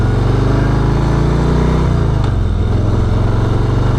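A 2018 Harley-Davidson Street Bob motorcycle cruising down old backcountry roads, its engine a loud, steady, close rumble that drops slightly in pitch partway through, with no talk.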